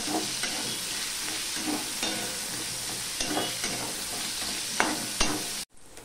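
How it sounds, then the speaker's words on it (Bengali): Chopped onions sizzle steadily in hot oil with black cumin, a dense continuous frying hiss broken by a few sharp stirring scrapes, then cutting off abruptly near the end. "পেঁয়াজ দিয়ে দিলাম।"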